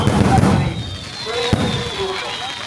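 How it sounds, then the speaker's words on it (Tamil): Fireworks at the Madurai Kaliamman temple festival in Thottiyam, Trichy, pop and crackle in an outdoor crowd, with a sharp burst partway through and whistling trails, beneath someone commentating in Tamil. "பல்வேறு வகையான வானங்களை கொண்டு வந்து நம்முடைய வானப்பட்டையில் நம்முடைய கண்களுக்கும் மனதிற்கும் மத்திரக்கூடிய அளவிலே வளர்ந்து வான வேடிக்கை நடத்தி"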